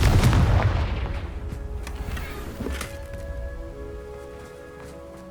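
A Confringo blasting spell detonates in Hogwarts Legacy, a loud close boom at the start that decays into a long rumbling tail over low game ambience.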